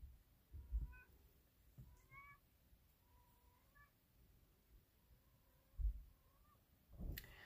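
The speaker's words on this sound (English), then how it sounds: "And of course, there's the cat again." A house cat meows several times in a quiet room, short rising cries spaced across the moment, fairly soft and a little distant, with faint handling noises in between.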